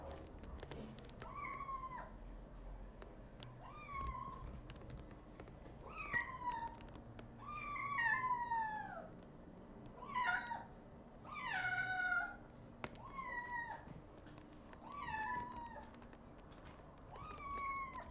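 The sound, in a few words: cat meowing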